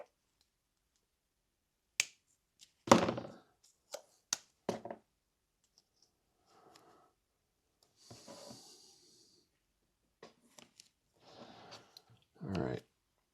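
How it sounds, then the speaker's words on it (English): Electrical tape is pulled and wrapped while building a 4:1 balun for HF antennas: sharp sporadic crackles and snaps with short tearing rasps, separated by near silence, close up. "Get another section of tape here."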